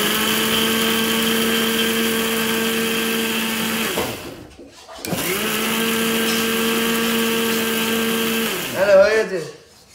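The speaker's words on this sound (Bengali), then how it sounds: "আদা রসুন পেঁয়াজ লঙ্কা জিরে হলুদ সব পেস্ট করে দিয়েছি" A kitchen blender grinds ginger, garlic, onion, chilli, cumin and turmeric into paste, giving a loud, steady whirring drone that stops for about a second and then starts again. A brief voice sounds near the end.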